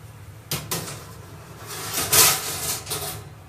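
An oven door opens and shuts as a badam cheesecake goes in to bake, with a few close wooden-sounding clunks and a rubbing thud, no voices.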